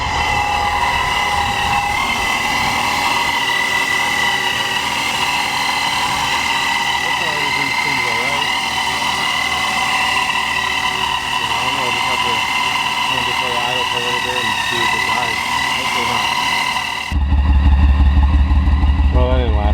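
A supercharged BMW E36 engine runs close by with an uneven, droning note and a steady tonal whine, stumbling now and then as it misfires, then surging louder near the end; a person speaks over it.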